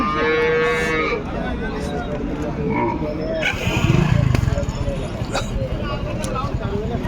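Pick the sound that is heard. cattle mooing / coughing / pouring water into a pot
cattle mooing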